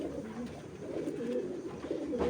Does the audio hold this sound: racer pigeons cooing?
yes